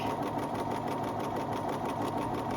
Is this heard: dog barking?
no